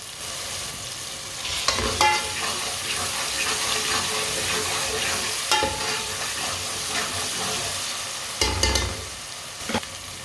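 Tomatoes and green chillies sizzle and fry steadily in a pan, with a continuous bright hiss and a few louder stirring scrapes and clatters, close and without talk.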